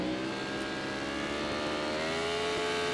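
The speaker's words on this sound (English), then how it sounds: "On its side, revs come up." Formula Pacific race car engine, loud and close, holding a high buzzing drone as its revs climb steadily.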